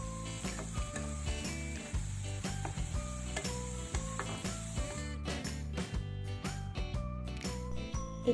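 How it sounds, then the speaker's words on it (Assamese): Chili and cumin powder masala fries in hot oil while being stirred, a steady sizzle running underneath continuous background music with no talking. "এতিয়া মই এইখিনি ভালদৰে লৰাই ভাজি লৈছোঁ।"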